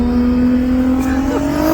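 Nissan GT-R engine revving hard on the road, a loud, close, sustained roar with rising pitch through the short burst.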